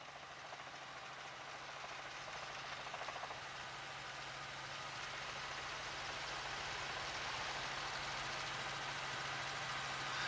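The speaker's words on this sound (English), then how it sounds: "And they're up over it, the Firebird helicopter." A steady, distant mechanical drone with a faint rhythmic chop from a police helicopter hovering over a high-speed pursuit in central Phoenix, slowly growing a little louder.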